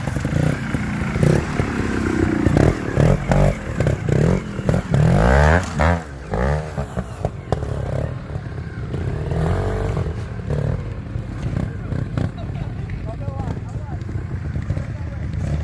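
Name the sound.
trial motorcycle ridden through a section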